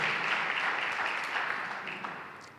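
Applause from a church congregation praising the Lord, a dense steady wash of clapping that stays fairly loud and fades slightly toward the end.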